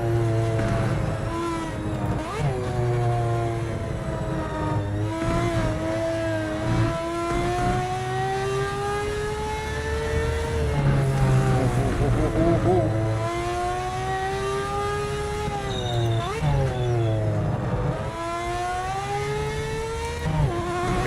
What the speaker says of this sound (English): And this 787 sounds pretty epic.